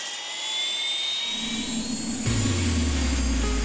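A camera drone lifting off at a campsite by a mountain lake, its rotors spinning up into a steady, loud whine and hum that grows stronger partway through, close to the microphone with no talk.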